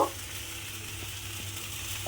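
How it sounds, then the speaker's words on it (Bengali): Chhana (fresh cottage cheese) fries in a pan with a faint, even sizzle and a low hum, with a brief stirring scrape at the start and light clicks of the spatula. "একটু নাড়াচাড়া করে ভাজা ভাজা মতো করে নিতে হবে।"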